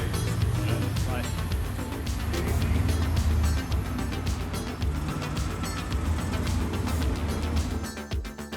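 A 2018 Mercedes-AMG GT R with a 4-litre twin-turbo V8 drives along, its engine a steady close rumble with fluctuating revs, with people talking over it throughout.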